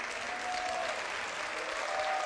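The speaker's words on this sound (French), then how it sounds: "sous les applaudissements du public" A crowd applauding in the Besançon sports hall after a women's singles final, a dense, continuous wash of clapping filling the room.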